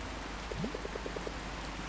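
Constant, even rainfall washes through a scene in the game Until Then, with a brief run of soft, evenly spaced plinks over the steady hiss.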